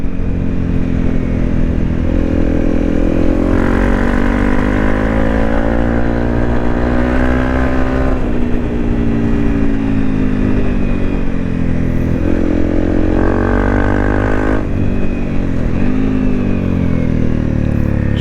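A Honda CRF 250 Rally motorcycle ridden along muddy country lanes hums steadily and close, its single-cylinder engine note rising and falling as the throttle opens and eases, with wind rush and a few shifts in pitch.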